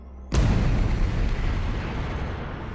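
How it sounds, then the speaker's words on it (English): A huge boom bursts in suddenly after a moment of quiet, then a deep, dense rumble rolls on and fades slowly, standing for a star exploding on a cosmic scale. "What Baade was referring to was an explosion of simply cosmic scale."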